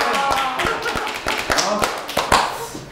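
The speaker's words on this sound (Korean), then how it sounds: "박수 한번 칠까요?" Hands clapping at a small theatre troupe gathering in Daegu's Daemyeong performance street, sharp close claps in a loose, uneven rhythm with voices murmuring underneath.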